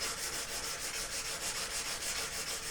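A 600-grade buff stick rubs steadily across a small casting, producing a close, continuous scratchy sanding sound with a fast, even back-and-forth rhythm.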